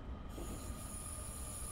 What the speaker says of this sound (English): this is a slightly more sedate, slightly normal Metro Tokyo commuter train